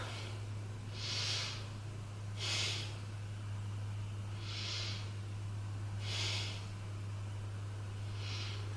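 Deep, slow breaths held in a balanced beginner yoga pose for back and glutes: five airy, even exhalations spaced a second or two apart, near and soft over a constant low hum, with nobody speaking.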